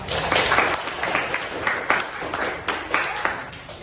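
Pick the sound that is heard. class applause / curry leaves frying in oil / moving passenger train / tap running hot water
class applause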